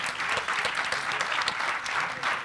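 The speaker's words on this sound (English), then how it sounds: "Please give them a round of applause as well." Audience applause for the moderators at a New York City mayoral candidates' tech policy forum, steady dense clapping from a sizable crowd filling the whole stretch, no voices over it.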